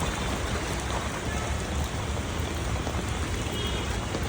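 Heavy rain pours steadily outdoors around a football game, a loud, dense, unbroken wash of falling water with no voices heard.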